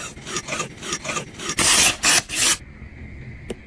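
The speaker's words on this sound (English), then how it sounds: "Grab your leather strop." A very long butcher's knife is drawn along a leather strop in a series of brisk rasping strokes, about eight in quick rhythm with a few louder swipes near the end, close up and without talk.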